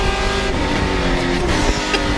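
Race cars circulating at the Mid-Ohio track, a loud, steady wall of engine roar with continuous droning tones and a few brief shifts as cars pass nearby, no talking.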